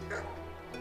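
A neighbour's dog gives a short yelp or bark, heard faintly from a distance under a steady low hum, with a brief voice nearby.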